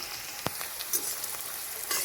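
Green chilies and garlic fry in a pan, giving a steady soft sizzle with a few brief louder spatters and stirring scrapes, close and alone with no talking.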